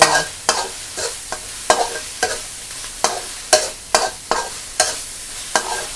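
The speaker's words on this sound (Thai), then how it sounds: "ผัดกะทิกับหมูเลย" Pork stir-fried with coconut milk in a pan, sharp spatula scrapes striking at a regular beat about twice a second over a soft sizzle, close and loud with no voices.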